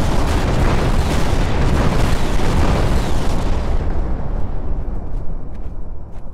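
Large ACF cannons firing in Garry's Mod, heard as a loud, sustained roar of overlapping heavy blasts that gradually fades and thins out toward the end.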